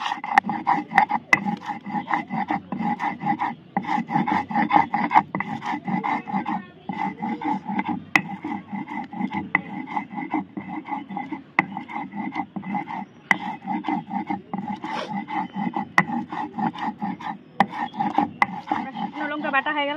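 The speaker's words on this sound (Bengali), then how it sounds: "এই যে এবার আমি শুকনো লঙ্কাটা বেটে নিব।" Dried red chillies ground by hand on a grinding stone, producing a continuous rhythmic scraping and rubbing of stone on stone, close and steady throughout with no speech.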